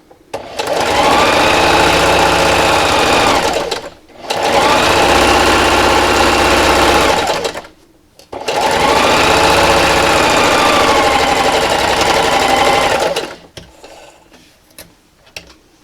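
Sewing machine running a straight stitch at 2.3 length along a 1/4 inch seam on fabric for a wine gift bag, three loud steady bursts of about four seconds each with brief pauses between them.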